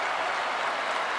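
A basketball arena crowd roars after an and-one basket in an Indiana State versus Ohio State game, a dense, loud wash of cheering and clapping that holds steady throughout.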